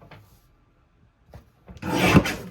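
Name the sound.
paper trimmer cutting cardstock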